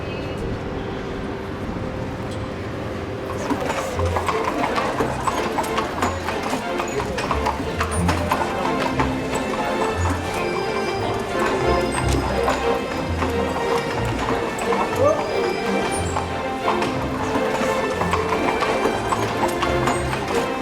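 Hooves of a Lipizzaner-style performing horse clip-clopping during a riding-school performance in Vienna, a steady run of soft, regular hoofbeats across a large hall with crowd murmur, faint talk and a low airy hum underneath.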